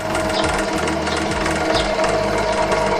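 Steady mechanical whir of an OKURA mini bench drill press running continuously, with a constant hum and faint rhythmic rattling throughout.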